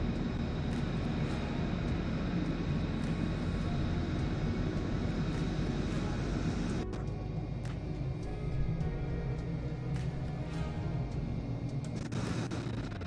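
An airplane drones steadily for the whole stretch, a loud continuous engine roar that dips and changes character partway through, heard alone without talk.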